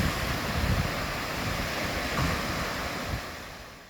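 Waves wash onto the beach at Ballycastle, Northern Ireland, a steady broad surf roar with wind noise across the microphone, continuous and fairly close for a few seconds.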